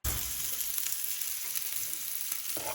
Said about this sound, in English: I'm gonna let this cook until the bread is nice and crispy